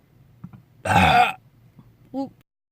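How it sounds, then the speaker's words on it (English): A loud, harsh burp lasting about half a second, close and prominent, between quieter mouth sounds and a short vocal murmur. "That was a loud burp"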